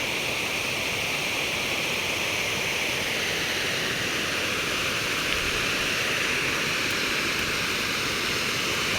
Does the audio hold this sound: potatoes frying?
no